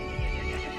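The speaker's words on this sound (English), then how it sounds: "The horse grew angry and summoned the other monsters." A horse neighs in Resident Evil Village, a short loud whinny set against a dense, droning game soundscape.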